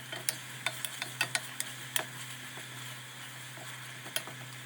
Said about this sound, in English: When it is hot enough, I'm gonna add the onion and saute until they are translucent.